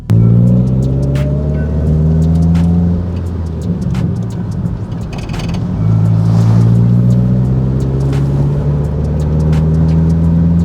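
Subaru WRX STI accelerating at quarter throttle through gears one to four, engine pitch rising in repeated climbs with drops at each shift, loud from inside the car.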